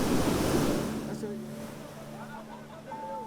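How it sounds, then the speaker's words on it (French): Rough sea waves at high tide break on the beach at Assinie beneath a sandy cliff, a loud rushing surge at first that fades into a softer wash, with faint voices in the background. "Ici, les vagues sont de plus en plus agitées."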